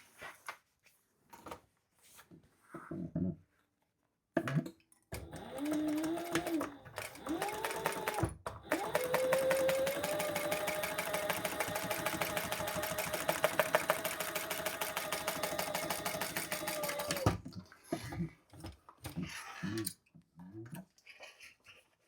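A sewing machine top stitches a lining seam on a crossbody bag. It starts with a few short bursts, then runs in one long steady whir up close, and ends with more brief stitching spurts.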